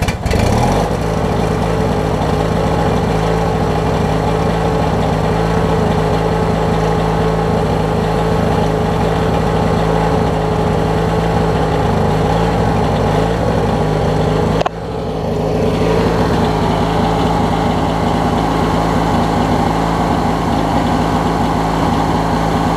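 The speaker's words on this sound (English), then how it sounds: "Now that I got the jets opened up, it sounds really good too." A Craftsman mower's Briggs opposed-twin engine runs steadily with its jets opened up, a loud, constant droning idle with one brief dip in the middle, and no voices.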